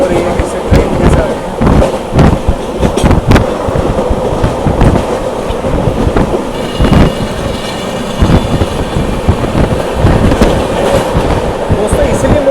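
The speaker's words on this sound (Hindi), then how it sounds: "यहाँ हमारी क्रॉसिंग हो रही है किसी ट्रेन के साथ।" An Intercity Express on the Khandala Ghat line between Mumbai and Pune passes another train, with a loud continuous rumble, rhythmic wheel clatter and heavy rushing noise from close by, and a voice speaking faintly underneath.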